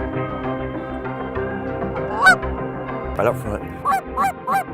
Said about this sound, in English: These geese and ducks have been out here feeding these swaths.